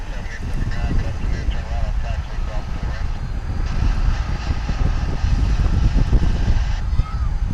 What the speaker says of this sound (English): Hear the whine of those A300 engines.